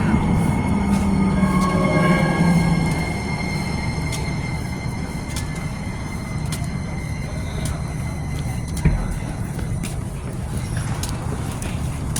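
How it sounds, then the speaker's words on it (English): A southbound Blue Line light rail train to Mall of America pulls into a station, its loud rolling rumble settling as it slows, with metallic clicks and faint high wheel squeal over steady platform noise. "A southbound Blue Line train to Mall of America is arriving on track number 2."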